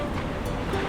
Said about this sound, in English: I didn't know Phuket had such big waves